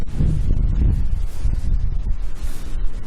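Gusty wind buffets the microphone with a low, rumbling roar that rises and falls throughout.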